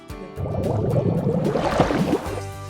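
Wet concrete pours and slops onto a house floor in Honduras, a thick gurgling, splattering flow up close that lasts a couple of seconds before stopping.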